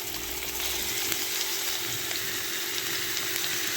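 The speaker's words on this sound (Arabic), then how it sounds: "ادي اللحمة المفرومة مع البصل وهسيبهم كده يشوحوا" Minced meat and onion fry together in a pan with a dense, even, close hiss of sizzling fat that holds steady throughout, with no talking.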